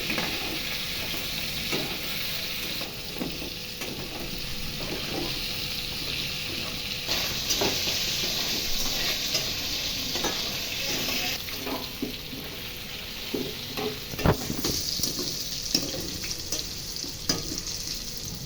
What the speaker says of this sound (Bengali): আলুতেও ১ চা চামচ লবণ, আধা চা চামচ হলুদ এবং এক চা চামচ মরিচের গুঁড়া দিয়ে মিক্স করে নিয়ে আমি ৪ মিনিটের মতো